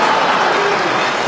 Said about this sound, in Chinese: 鼓鼓掌不是不可以的